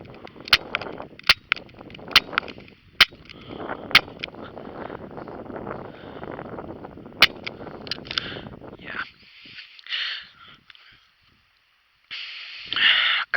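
Several sharp cracks from a Daisy Powerline 5501 CO2 air pistol during backyard target practice, irregularly spaced across the first half, with a low rumble of wind or background noise behind them and quieter hissy noises afterward.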